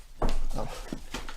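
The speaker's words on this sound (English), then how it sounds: "I'm being invaded by puppies." Puppies whimpering and sniffing up close, a few short breathy whines and snuffles in quick uneven bursts with faint scuffling between them.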